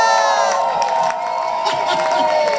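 A concert audience at a show in Holýšov cheers loudly for the drummer, a sustained roar of shouts and whoops with a ringing tone running underneath.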